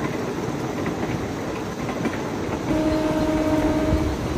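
A train rumbles along with a clickety-clack roll at night, steady and fairly loud, and a sustained horn sounds through the second half as it draws away into the dark.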